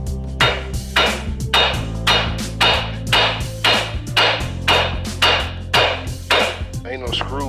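Loud metal hammer blows strike a wheel hub assembly on a 2008 Kia Sedona, about a dozen heavy whacks in a steady rhythm, close up with no talking.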